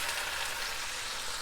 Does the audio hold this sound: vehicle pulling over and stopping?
no